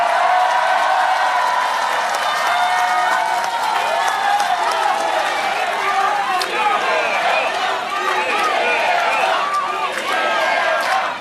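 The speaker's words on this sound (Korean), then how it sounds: "박수 좀 크게 쳐주세요." A crowd at a Korean political rally claps steadily and fairly loudly for several seconds, a dense continuous patter of applause.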